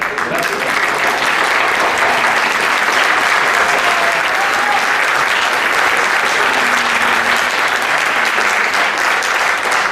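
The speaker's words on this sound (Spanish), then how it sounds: "¿No le dan un aplauso a la gente?" Loud, sustained applause from a crowd at a Tlaxcala food book presentation holds at an even level for about ten seconds, with faint voices blended into the clapping.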